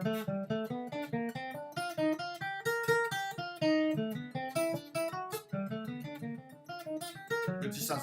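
Guitar plays a jazz tune as a 1-2-3-5 note pattern, a steady run of quick picked notes repeating the same shape over fast-changing chords, close and clear with no talking.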